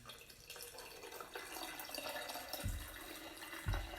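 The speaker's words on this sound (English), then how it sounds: "So I'm just going to pour the cool down green tea in here." Cooled, sweetened green tea is poured into a jar for kombucha, making a soft continuous trickle and splash of liquid, faint and close, with a couple of low thumps near the end.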